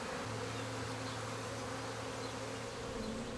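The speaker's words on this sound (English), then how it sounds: "Yeah, this little guy's fine, nice healthy bee." Honey bees buzzing at a beehive, a dense continuous drone with steady humming tones, close and uninterrupted, no speech.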